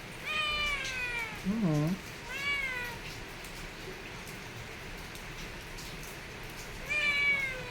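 A kitten meows several times, in a cluster at the start and another near the end, close and fairly loud over a soft background patter like rain, with a brief murmured voice in between.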